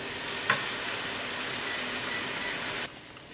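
Bacon and spinach stir-fry in butter with a loud, continuous sizzle and one sharp pop early on; the frying cuts off abruptly near the end, leaving a quieter hush.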